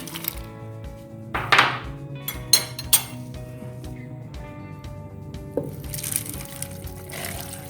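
Ice pieces are dropped into a blender jar holding milk, dates, apple and banana, making a few sharp clinks and clatters in quick bursts, close and moderately loud against a quiet kitchen background.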